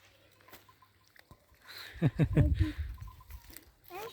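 Soft crunching bites and chewing as a goat eats grass close by on a highland pasture, a short cluster of crunches in the middle amid quiet background.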